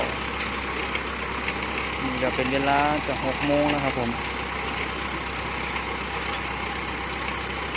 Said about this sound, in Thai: เร่งเครื่องแล้วครับผม